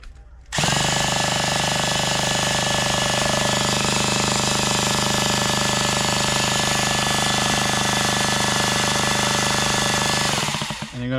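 A Revo 3.3 nitro engine, coated in WD-40, is turned over for about ten seconds: a loud, steady, buzzing mechanical whir that starts abruptly, holds constant throughout and cuts off at the end.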